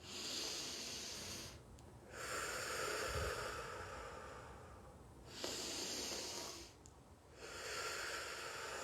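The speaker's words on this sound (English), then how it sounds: "Breathing is such a powerful technique to keep your nervous system calm." Slow, deep belly breaths fill the space, long airy inhales and exhales cycling calmly about three times with brief pauses between them, close and fairly loud, with no talking.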